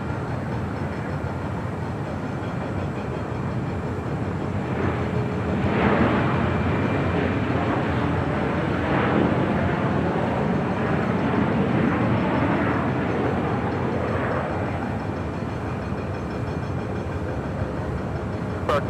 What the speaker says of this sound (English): That was American Airlines Flight 1541 coming in from SFO